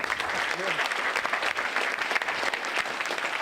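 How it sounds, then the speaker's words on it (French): Audience applause at a French science-fiction conference session, a steady dense patter of clapping from a seated crowd, with a brief voice or cheer rising over it early on. "on peut l'applaudir"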